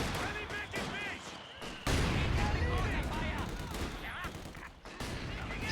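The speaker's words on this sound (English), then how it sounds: "It's my other mortar." Mortar fire and battlefield gunshots in the wartime strategy game Company of Heroes 2, with repeated sharp bursts and a heavy thump partway through, loud and busy, mixed with game unit voices.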